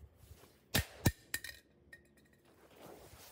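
A hammer strikes a toy car. Two sharp, loud impacts are followed by lighter clinking knocks, then quieter rattling.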